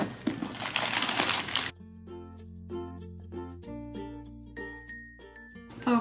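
Crinkling packaging as a Hello Kitty 50th Anniversary Loungefly bag with a pearly finish is unwrapped, a burst of rustling followed by light tinkling, clinking taps and soft handling noises at close range.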